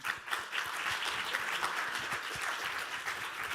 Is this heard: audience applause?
yes